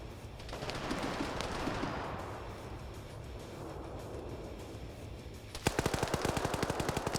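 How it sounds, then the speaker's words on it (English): Gunfire in the video game Arma during an OFCRA PvP match: a broad rushing battlefield din, then a loud, rapid burst of automatic shots near the end, with no talking. "We're seeing some shots going across the way here"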